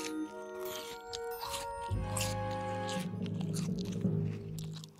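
A cartoon character munches on a rain pear, with crunchy biting and chewing close-up over background music.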